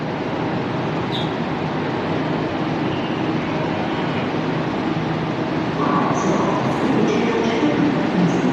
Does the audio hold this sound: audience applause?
no